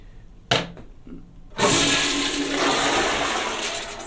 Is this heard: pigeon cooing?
no